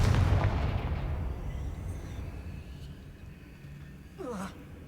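A Confringo spell blast in a Harry Potter video game: a deep, loud boom right at the start that rumbles and fades over several seconds, followed by a short voice-like sound near the end.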